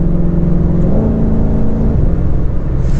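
A 2020 Ford Mustang Shelby GT500 engine pulling at part throttle on a highway, a loud steady rumbling drone with a gear change partway through, heard from inside with no talk.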